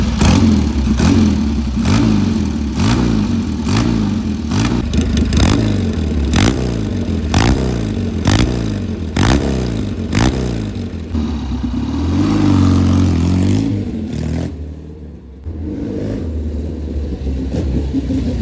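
A Triumph Metisse scrambler motorcycle engine is started and blipped repeatedly, loud and close, in a rhythmic series of sharp revs that rise and fall. It holds a longer rev, then briefly cuts out before settling into a rough idle.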